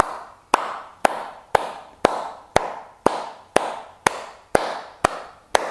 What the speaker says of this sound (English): let's begin with clapping the hands